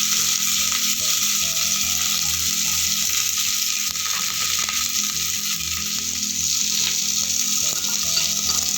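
Mustard seeds, curry leaves, garlic and green chilli fry in hot ghee with a dense, steady sizzle and crackle, close and loud. Faint stirring clinks sound throughout.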